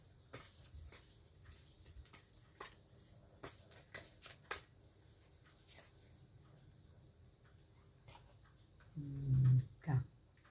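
Whisper of Love oracle cards are shuffled in quick, soft riffling bursts close by, followed by a brief louder thump near the end, with no talk over the shuffling.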